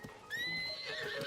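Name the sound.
horse neighing in video game Zelda Tears of the Kingdom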